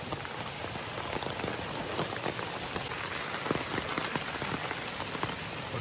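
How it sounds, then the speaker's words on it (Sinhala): Rain pours steadily on a slippery mountain pilgrimage trail up to Sri Pada at night, a dense, even patter of drops striking close surfaces, with no talking. "වහිනවා"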